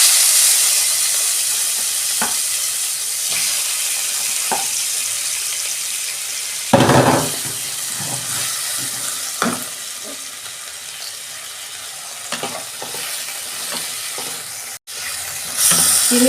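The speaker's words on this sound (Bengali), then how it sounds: "চিংড়ি মাছটা আমি একটু হালকা করে ভেজে নেব।" Shrimp coated with salt and turmeric shallow-frying in oil in a kadai, a steady close sizzle with a few brief scrapes and clinks of stirring and no talking.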